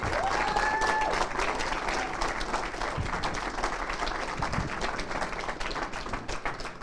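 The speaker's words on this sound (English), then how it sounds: "Round of applause." Audience applause for a new 18-year-old ladies world champion at an IPA World Championship final, a steady wash of clapping from a crowd that holds throughout at moderate loudness, with a few faint background voices.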